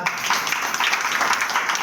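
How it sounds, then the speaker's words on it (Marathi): Steady applause from a crowd, continuous clapping throughout at moderate volume. "सगळ्यांनी टाळ्या वाजवा."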